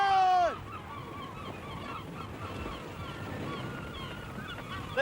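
Gulls call over the open sea, one loud, close, descending cry at the start followed by fainter scattered calls against a soft background hiss.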